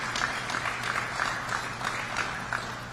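Scattered audience applause at a New Jersey governor's manufacturing program announcement in Kearny, fairly faint and steady, with a few light claps standing out against room noise.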